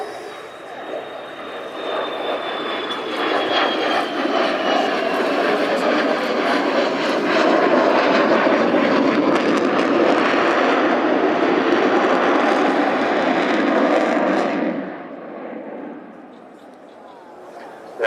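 Boeing F-15 fighter jet flying an airshow display at the Royal International Air Tattoo, a loud, sustained roaring jet rumble that swells and holds for several seconds, then drops away sharply toward the end.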